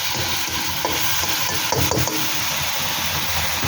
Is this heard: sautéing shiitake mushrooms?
yes